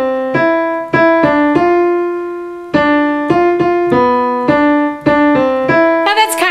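Piano playing the simple beginner tune Marianne straight as written, clear single-note melody in separate struck phrases with short pauses, alone and fairly loud.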